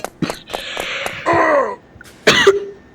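A throat being cleared in a few short rasping bursts, followed by a harsher cough, close up with brief pauses between.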